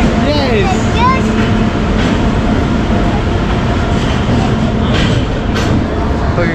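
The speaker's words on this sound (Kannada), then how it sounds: "ಫೈನಲಿ ಬಂತು ಟ್ರೈನು" A passenger train pulls into a railway station on a trip to Mumbai, with a steady loud rumble and rolling wheel noise, faint squeals and brake hiss, under the chatter of people on the platform.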